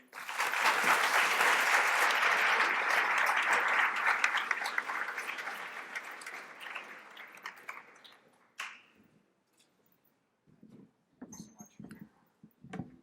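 An audience claps loudly to welcome a speaker to the podium at an advocacy training event. The dense applause runs for several seconds, fades away, and is followed by faint room sounds and the start of speech.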